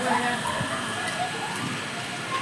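Sudden first summer rain pours steadily outdoors in a strong wind, a dense even hiss of drops with faint patters, while a voice speaks softly underneath.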